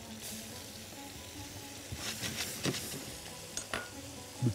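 Onions frying in a pan while cooking a mackerel and seafood dish, a soft continuous sizzle with a few light scraping stirs and clinks near the end, fairly quiet and without talk.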